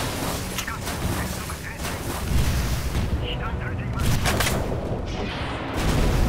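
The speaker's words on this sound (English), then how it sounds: "Battleships firing." Battleship guns fire in the naval game Navyfield 2, a dense continuous rumble of booming salvos and distant explosions that swells in waves, loud throughout with no clear gaps.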